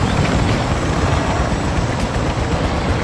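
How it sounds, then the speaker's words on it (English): Chopper gunner helicopter in a Call of Duty style ground war match, a loud continuous rotor roar filling the scene without pause. "Chopper gunner on station."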